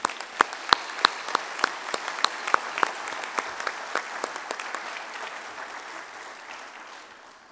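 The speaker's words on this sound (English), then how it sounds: "Now let's please give them all a very nice round of applause." An audience at an academic honorary fellowship ceremony breaks into applause. Scattered sharp claps come first, then they blend into a steady wash that slowly fades out, heard from a distance in a large hall.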